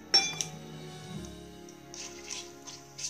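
Whole spices such as bay leaf, green and black cardamom, cloves, cinnamon and mace dropped into a cooking pot for egg biryani, giving a few light clinks and taps early on, then soft scattered ticks and rustles.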